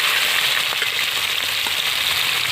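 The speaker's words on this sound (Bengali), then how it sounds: "তেল গরম হয়ে গেছে বন্ধুরা, চিংড়ি মাছগুলো দিয়ে দিচ্ছি" Prawns dropped into hot oil for a banana-flower thor ghonto, producing a steady, loud, bright sizzle with fine crackling throughout.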